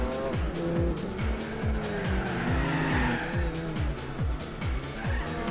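Race cars in Gran Turismo 4, including a Ford RS200, Mitsubishi Evos and a Pagani Zonda, roar together in a continuous engine drone with repeated rising and falling gear-shift sweeps and tire squeal, loud and steady throughout.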